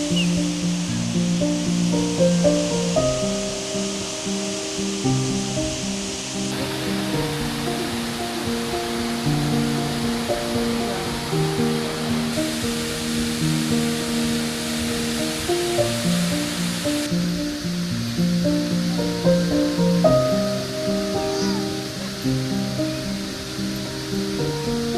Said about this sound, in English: Powerscourt Waterfall is a part of the Powerscourt estate